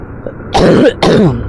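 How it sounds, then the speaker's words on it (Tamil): Two harsh coughs close together, loud and near, with a faint breathy sound before them and no talking. "இந்த இருமல் சரியாகல மக்களை, இன்னும் ரொம்ப பாடாப்படுத்துது."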